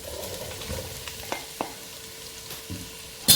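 Sliced onions and slit green chillies frying in a pan for butter chicken, a low steady sizzle close up with a few soft stirring knocks and a sharper clatter at the end.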